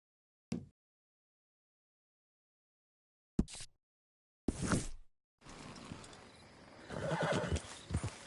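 A horse whinnies in short bursts separated by silence, then hooves clip-clop steadily alongside another neigh, fairly close and clear, in Red Dead Redemption 2.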